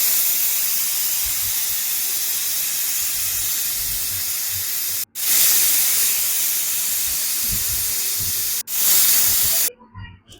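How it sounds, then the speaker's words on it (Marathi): A pressure cooker on the stove cooking soaked rice for Maharashtrian masala rice releases loud, continuous steam hissing, broken by two brief cutoffs before the whistle bursts again and stops near the end. "छान पटापट 2-3 शिट्ट्या करून घेऊया"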